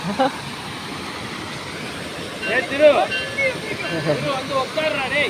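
Water rushes steadily at a bathing spot in Sathyamangalam where children bathe. The broad, even wash continues throughout while voices come and go over it.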